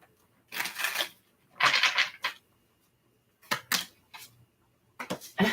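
A deck of tarot cards is shuffled for a reading in several short, crisp riffling bursts separated by quiet gaps, close and fairly soft, with no talking.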